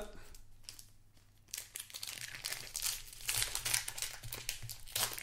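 Pokémon booster pack wrappers being torn open quickly, close crinkling and ripping foil plastic in bursts, louder and denser in the second half, with a little low background hum.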